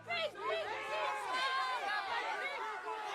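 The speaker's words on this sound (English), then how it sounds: "The crowd wants them out." Crowd of people chattering and calling out in an outdoor gathering, with overlapping voices forming a steady hubbub that sounds moderately distant.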